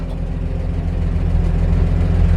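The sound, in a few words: heater running in a 1947 Chevrolet 3100 truck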